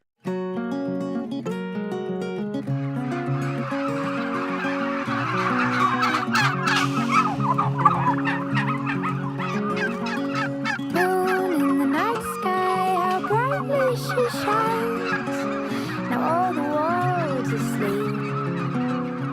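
Turkeys on a turkey farm gobbling in a large flock, a dense, continuous chorus of overlapping gobbles and warbling calls, loud and close throughout with no talking.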